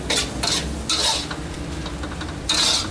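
Glass noodles with minced pork stir-fried in a hot pan, a close scraping stir with steady sizzling and a few sharper utensil scrapes against the pan.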